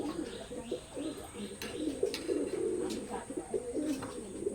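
Imported Teddy pigeons coo steadily in low, throaty rolls, several birds overlapping close by, with occasional faint clicks and rustles in the background.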